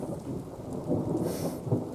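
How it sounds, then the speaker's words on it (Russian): Rain and gusting wind during stormy weather, a steady broadband rush with low rumbling surges, heard alone with no talk. "Погода дождливая, ветреная."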